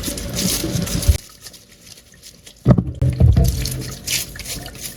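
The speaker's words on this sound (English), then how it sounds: "I rinse all my ingredients under running water to wash off visible dirt or debris, especially the celery" Celery, cucumber and apple are rinsed under a running kitchen tap, a close, loud rush of water that briefly cuts out and then resumes with splashing as the produce moves under the stream.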